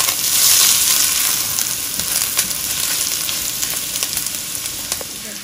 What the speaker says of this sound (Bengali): হালকা ভাজা করে তারপরে আমি ডিমগুলোকে দিব